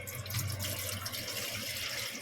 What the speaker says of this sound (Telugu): మరొక బౌల్లో కూలింగ్ వాటర్ వేసుకోవాలి